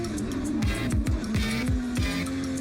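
Piotr Wiecek's drift car on a competition track, with loud engine revs and repeated falling pitch sweeps of a car passing close by, alongside dense tire and crowd noise.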